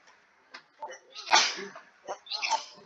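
One sharp, breathy sneeze bursts out between stretches of someone talking nearby.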